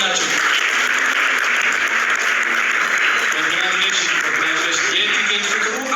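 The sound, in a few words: audience applause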